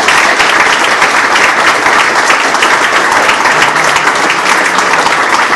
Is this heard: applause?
yes